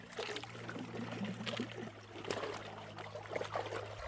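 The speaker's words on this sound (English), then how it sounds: "Just splashing it into the bucket to take a look" Water splashes and trickles into a bucket during gold prospecting, a steady close pouring and sloshing with a low hum running underneath.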